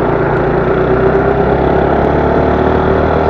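A Yamaha RS150R V3 motorcycle engine idling steadily up close, loud and even, with a faint recurring ticking or whirring from a faulty tensioner running through it.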